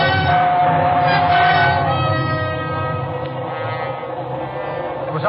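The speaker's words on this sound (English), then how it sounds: "It was only the train going through the tunnel" A train rumbles past with a sustained, roaring rush and a high whining tone, sounding enclosed and echoing as if inside a tunnel.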